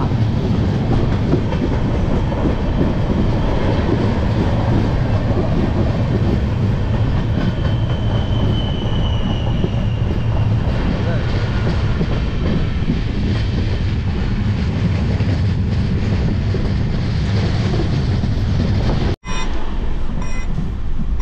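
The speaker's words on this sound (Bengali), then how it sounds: "আর এই হচ্ছে কালকা মেল যাচ্ছে, হাওড়া কালকা।" The Howrah-Kalka Mail passing close by in India, a loud sustained rumble of rolling coaches with rhythmic clickety-clack from the wheels over the rail joints, continuous for the whole stretch before a sudden cut near the end.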